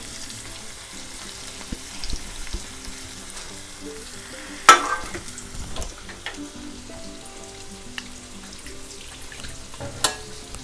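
Water from a rinsed plate is poured into a pan of stuffed tondli, raising a soft, steady sizzle and crackle with a few sharper pops and clinks, faint and close.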